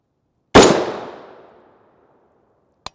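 A rifle with an 18-inch upper fires M193 rounds outdoors: one sharp, loud blast rings out with a long decaying echo, and a second brief crack is heard near the end.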